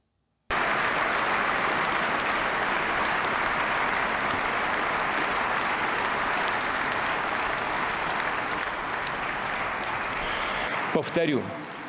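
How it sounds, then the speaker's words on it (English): Russian lawmakers applaud a statement by Putin, sustained loud clapping from a large hall that starts abruptly and continues steadily before tapering off near the end. "His audience of lawmakers greeted the statement with applause"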